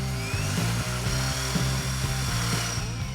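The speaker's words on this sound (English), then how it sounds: "What was a power tool is now our precision-controlled, accurate, reversible winch motor" A power tool converted into a reversible winch motor runs continuously with a steady mechanical whir and a regular pulsing rhythm, loud and close throughout.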